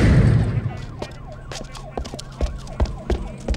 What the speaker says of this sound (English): Police cars.